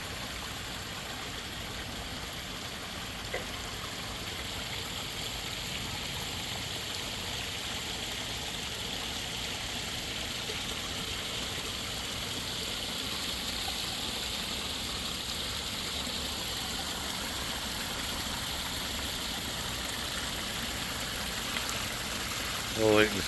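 A steady, even rush of falling water from a garden koi pond waterfall, a continuous wash that holds constant with no talking throughout.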